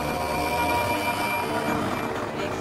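Small airplane patched with duct tape flying overhead, its steady propeller engine drone loud and continuous throughout, with no voices.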